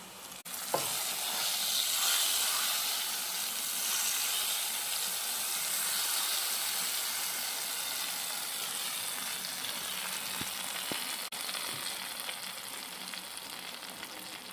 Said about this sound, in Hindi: हमारे लहसुन का कलर भी ब्राउन हो गया।